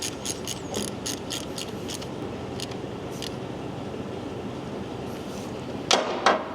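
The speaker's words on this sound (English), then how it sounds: "What I usually do when I'm tightening this up is I'll grab the wrench close to the head because I'm taking out the leverage of the ratchet." A ratchet wrench clicks in quick, crisp bursts while tightening the oil drain plug on a Harley-Davidson Dyna motorcycle, close and alone, with a louder pair of clicks near the end.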